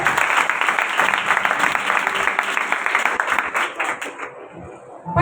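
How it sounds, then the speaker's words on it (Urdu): A church congregation at a sermon on the Book of Romans breaks into loud, dense applause, a sustained roar of clapping that eases slightly near the end. "میں چاہتی ہوں اس خوشخبری کے لیے ایک دفعہ زوردار تالیاں"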